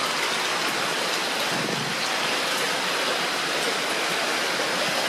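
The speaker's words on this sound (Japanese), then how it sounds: "川が流れてる、" River stream rushing beside an outdoor hot spring bath at Norikura Kogen Onsen in Nagano, a steady dense broadband roar of flowing water that stays loud and unbroken throughout.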